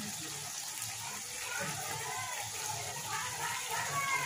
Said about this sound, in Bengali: একটু নেড়ে চেড়ে জল দিয়ে দেবো।